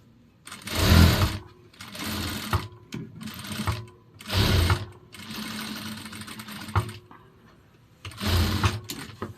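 An electric sewing machine stitches men's kurta cloth in short, loud whirring bursts, starting and stopping repeatedly with brief pauses between runs, up close.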